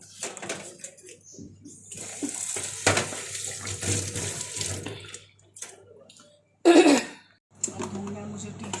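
A steel tiffin box being washed under a running kitchen tap, water splashing and clattering against metal in bursts with brief pauses, close by, while someone talks and clears her throat over it.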